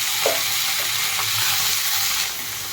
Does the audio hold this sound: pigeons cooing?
no